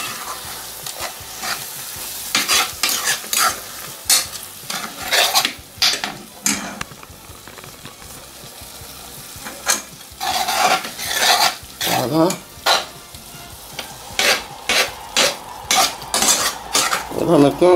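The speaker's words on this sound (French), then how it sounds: "Je suis venu rajouter la crème fraîche et là je vais remuer le mélange." Leeks and crème fraîche stirred in a saucepan, a spoon scraping and clinking against the pan in repeated bursts over a soft sizzle, loud and close with brief pauses.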